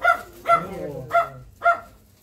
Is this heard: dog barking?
yes